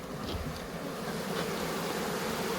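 Honeybees hum steadily around an open hive during an inspection of its frames, a continuous close buzz with faint sharper tones drifting over it and no talk.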